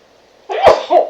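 A single short sneeze burst from a person with allergies, close and fairly loud, followed by a brief second vocal note, with no other sound around it.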